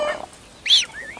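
Newly hatched bantam chicks give brief, faint high cheeps: a short peep, then a sharper chirp and a thin rising trill, close and quiet against a near-silent background.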